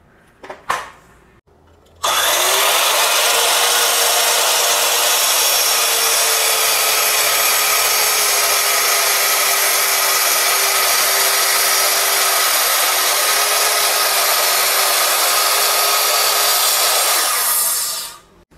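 A Ronix miter saw cuts through hard wood in one long, loud, steady whine after a short start, running unbroken for about fifteen seconds before winding down.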